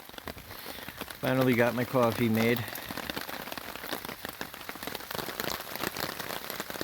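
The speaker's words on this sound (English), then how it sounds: "Rain's coming down pretty good." Rain falls steadily on a hammock camp in the autumn woods, a continuous close patter on tarp and leaves. Someone speaks briefly over it near the start.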